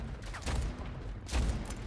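Shotgun blasts in the first-person shooter Splitgate, two loud booming bursts about a second apart, each with a broad noisy tail, close and dominant over the game's background.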